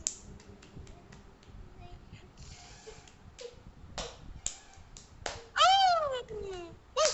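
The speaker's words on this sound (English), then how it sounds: "So many claps." A lesson with children as several sharp claps and snaps ring out in quick bursts, with a voice and speech heard between them.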